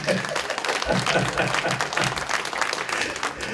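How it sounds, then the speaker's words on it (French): Audience applause at a 2018 New Year's greetings event in New York, a brief burst of dense, fairly loud clapping from a crowd honoring the president. "merci d'applaudir le président"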